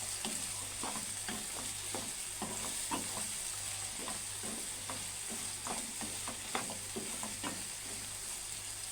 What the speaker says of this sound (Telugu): బాగా కలుపుకొని ఫ్రై చేసుకోవాలి.